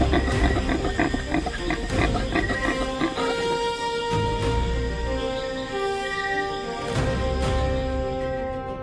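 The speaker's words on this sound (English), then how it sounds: "With a precise leap, the leopard attacks claws digging in, bodies colliding violently with the hardened earth." A leopard attacking an impala on hard ground, heard as loud, rough animal growls and snarls in several surges over a rumbling, dramatic background.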